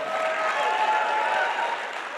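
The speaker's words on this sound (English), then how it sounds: "Let's give Vic a tremendous round of applause" A dense, steady round of applause rises from an audience at an entrepreneurship event, many hands clapping together without a break through the short stretch.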